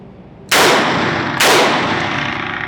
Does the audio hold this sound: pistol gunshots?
yes